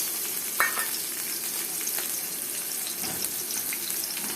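Onion frying in hot oil in a pot, the start of a hilsa fish head and taro curry: a steady, soft sizzle throughout with a couple of faint clinks.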